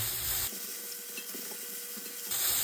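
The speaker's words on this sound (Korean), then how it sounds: "생각보다 가지가 잘 볶아지죠." Eggplant being stir-fried over high heat in a preheated pan with a spoonful of avocado oil, giving a steady close sizzle and soft scraping of stirring that runs throughout with no talk.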